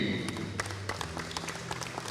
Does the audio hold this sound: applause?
yes